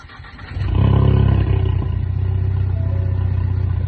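S550 EcoBoost car with a rebuilt engine and fresh spark plugs cranks briefly and fires up, then settles into a steady, loud, close idle with no talking.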